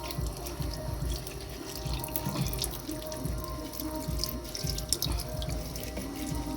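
Carrots washed under a running kitchen tap, a steady close stream of water splashing into a sink with small drips throughout, no talking.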